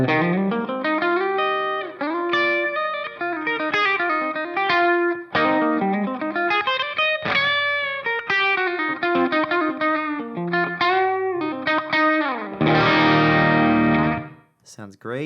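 Distorted electric guitar runs through an HX Stomp with a Selah Sounds impulse response, playing loud chords and melodic riffs with bends, then a heavy sustained chord that fades out near the end.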